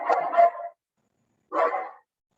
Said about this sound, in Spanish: mi perro está ahí ladrando